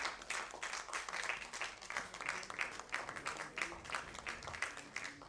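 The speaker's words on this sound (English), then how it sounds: "Let's one more time give a huge round of applause to Western Carriers India Limited" A room of guests at the stock-exchange listing ceremony for Western Carriers (India) Limited claps in a dense, continuous wash of applause, fairly distant and soft, with no voices standing out.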